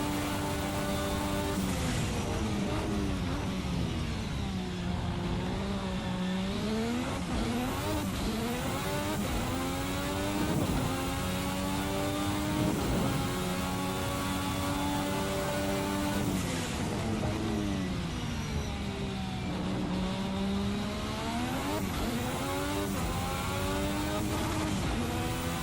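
Formula 1986 V6 race car in the Race Sim Studio sim, engine revving continuously near and loud through repeated gear shifts, pitch climbing and dropping as it brakes and accelerates around a lap.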